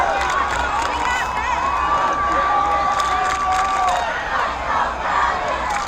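A high school varsity football crowd cheers and shouts in a stadium, a loud sustained roar with whistles and scattered yells as the home team takes the field.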